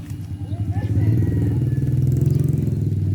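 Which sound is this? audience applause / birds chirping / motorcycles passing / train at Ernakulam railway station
motorcycles passing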